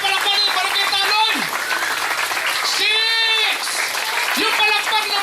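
Barangay Taloy congregation at a church anniversary gathering clapping steadily, a thick continuous patter of many hands under a loud amplified voice calling out across the room.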